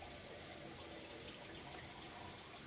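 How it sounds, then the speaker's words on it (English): A shaving brush is rinsed under a running tap, with steady broadband water rushing and splashing at an even level throughout, close and continuous, no speech. "I'm just making sure there's no soap left on that brush"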